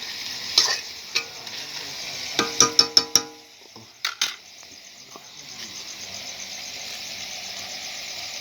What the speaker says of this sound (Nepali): त्यतिखेर चाहिँ भुट्दै भुट्दै जान्छ